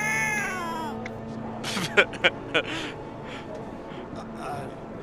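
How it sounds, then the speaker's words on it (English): A cow in Guild Wars 2 lets out a wavering, meow-like cry at the start, followed by a few short sharp sounds and game ambience, with someone talking over it. "Oh, I haven't heard that cow meow before."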